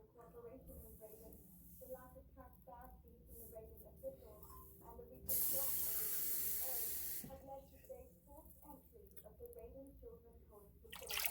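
Two cups of water pour with a steady rushing hiss for a couple of seconds onto mixed barbecue ingredients while a person talks before and after.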